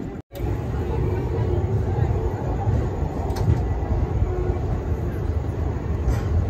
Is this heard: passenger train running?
yes